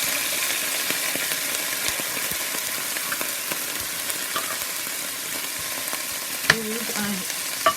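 Albacore tuna and onions cooking in olive oil in a pan, a loud, even sizzle running throughout with occasional sharp taps and a brief clatter near the end.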